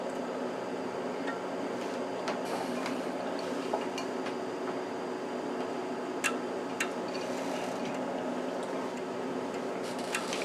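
A Tektronix TDS784C oscilloscope powers up and boots, giving a steady whirring hum with faint, scattered clicks and ticks over about ten seconds, with no one talking.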